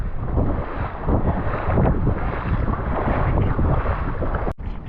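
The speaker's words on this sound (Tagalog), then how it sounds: "Lakas ang hangin." Strong wind roars and buffets continuously over open water, with a brief dropout near the end.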